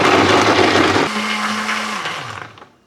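A kitchen blender whirs loudly and steadily while mixing ingredients with water for Jordanian mansaf, its motor pitch shifting partway through before winding down to a stop.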